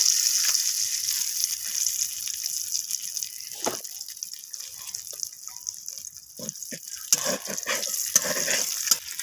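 Two dried red chillies tempering in hot oil crackle and sizzle in a steady high hiss, with sharper pops breaking through near the middle and toward the end.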